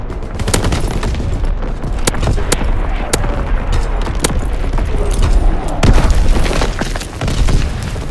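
Artillery strike explosions in the Call of Duty: WWII game, a rapid string of loud booming blasts and gunfire-like cracks rolling continuously over about eight seconds, with heavy low rumble throughout.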